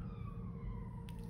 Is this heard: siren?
yes